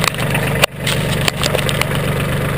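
Mahindra 1526 compact tractor engine idling steadily up close, a constant mid-pitched drone with a few brief knocks and dips, no talk.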